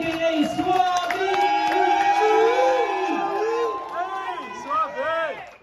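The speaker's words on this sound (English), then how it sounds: "Keep clapping" A crowd at a spoken word poetry night whoops and cheers loudly, with scattered clapping and shouts throughout, the noise swelling then thinning toward the end.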